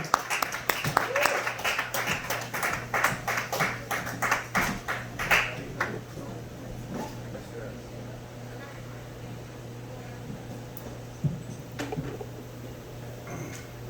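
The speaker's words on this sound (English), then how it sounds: "Start clapping now and keep clapping" Comedy club audience clapping and applauding as a stand-up comedian takes the stage, a burst of dense clapping for about six seconds that then thins to a few scattered claps over room noise.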